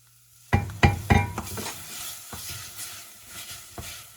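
Tomato paste hitting a hot pan, a few sharp scraping stirs followed by a steady frying sizzle with intermittent utensil clinks, close and with no talking.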